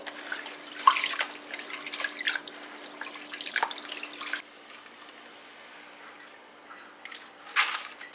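Rice being washed under running water in a kitchen sink, splashing and trickling in irregular bursts with quieter stretches between, close by and no talking.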